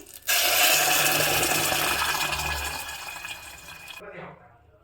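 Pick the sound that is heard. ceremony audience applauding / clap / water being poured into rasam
water being poured into rasam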